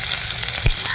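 Mustard seeds, cumin and green chili sizzle and spatter in hot oil in a pan, a steady close crackle with one brief thump of a stir.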